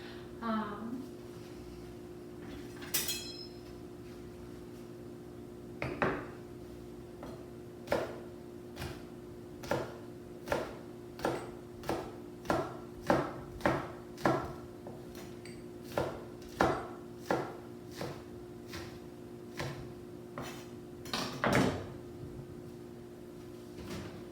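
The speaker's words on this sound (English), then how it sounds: "So I'm going to go ahead and start chopping those up." Steady knife chops through green onions on a board, about a dozen sharp taps in an even rhythm, close by, with a low hum underneath.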